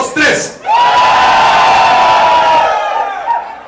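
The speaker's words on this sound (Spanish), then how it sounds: "A ver, el grito a la de tres de todos los hombres." A crowd of men in a Mexican restaurant lets out a loud, sustained group shout on cue, lasting about three seconds after a brief burst of voices.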